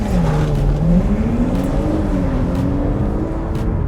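A 2025 Audi S5 Avant mild hybrid launches hard from inside the cabin, its engine note climbing steadily in pitch with a brief dip at a gear change, close and loud with no talking.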